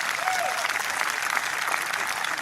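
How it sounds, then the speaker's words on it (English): Golf tournament spectators applaud in a steady, dense round of clapping at moderate distance, with a brief voice over it. "Why are they clapping?"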